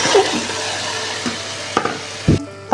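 Chicken pieces added to a pan to fry for escabeche, giving a loud, close sizzle with stirring and a few knocks of a utensil against the pan.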